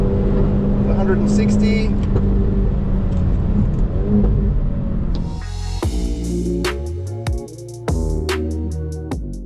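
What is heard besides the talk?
Hyundai i30 N engine revving to 7,000 RPM in third gear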